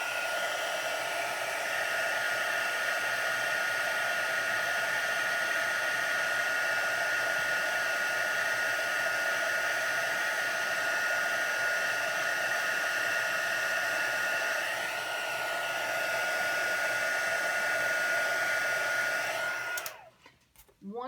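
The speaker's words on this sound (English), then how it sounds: "you want to make sure you keep your heat tool moving" A heat tool blowing hot air to emboss stamped cardstock makes a steady, loud whirring blower drone close by, running unbroken for about twenty seconds before switching off near the end.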